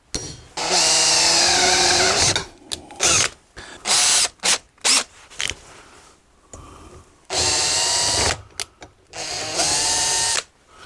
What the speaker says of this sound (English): I think I've drilled it out too much.